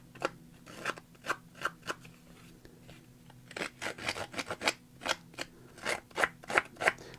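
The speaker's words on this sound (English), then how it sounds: "I'm going to make this even more rough, but because I used the deckled edge trimmer" A deckled edge trimmer with toothed blades roughs up the edge of paper for a mixed media art journal page, making a rhythmic run of close, crisp scraping strokes, about twenty in all, with a short pause partway through.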